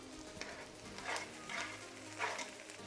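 Mushrooms added back into a pan of softened onions, soft sizzling with a few stirring scrapes and light clatters, quiet and close, no talk.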